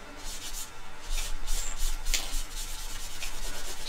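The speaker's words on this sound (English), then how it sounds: "Sometimes on the outside of a model, shock horror, I'll even use tissue." Tissue rubbed over a paint wash on the outside of a 1/32 ICM CR.42 plastic scale model, giving a steady soft scuffing and rubbing in repeated short strokes, close up and alone.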